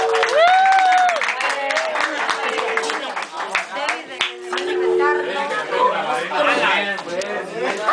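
Guests at a baptism party clap in a sustained burst of applause for the parents, mixed with crowd chatter and a voice speaking over it, fairly loud and close.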